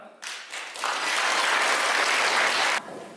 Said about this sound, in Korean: 우리 내빈 여러분께서 양가 어머님께서 입장할 때 큰 축복의 박수로 환영해 주시면 감사하겠습니다.